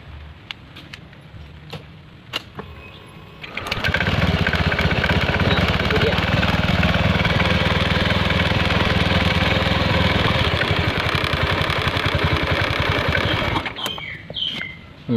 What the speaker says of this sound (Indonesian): Kita nyalain motornya dulu.